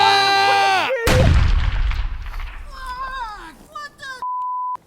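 A single loud gunshot fired at a moose cracks out just after a shout, then decays into a rumbling echo, followed by overlapping voices and a closing steady electronic beep.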